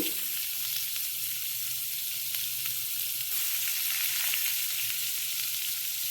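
Onion frying with cumin and curry leaves in a pan sizzles with a steady hiss, close and unbroken, and a few faint stirring clicks.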